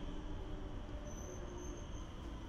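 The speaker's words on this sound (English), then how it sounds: "Our train is this Bombardier 5700 series Flexity Swift stock, dating from 2015 to 2017." A Rotterdam metro train, Bombardier 5700 series Flexity Swift stock built 2015 to 2017, rumbles steadily and faintly with a thin, high wheel squeal drawn out over the running noise.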